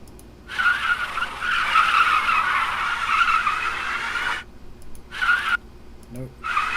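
A tire screech sound effect: a long, loud squealing skid of about four seconds, followed by two shorter screeching bursts after brief gaps.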